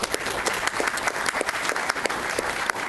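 Audience applause at a city council meeting, a steady wash of many hands clapping together at close to moderate distance, sustained throughout with no speech over it.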